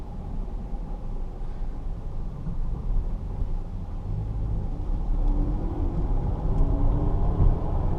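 A noisy 2010 Jeep Patriot with a worn clutch release bearing drives along, giving a steady loud low rumble and road roar that swells slightly as it goes, with no voices.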